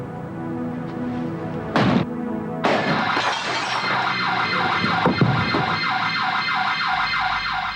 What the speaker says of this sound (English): Breaking the bottle didn't set off the alarm. Neither did his first attempt to break the window.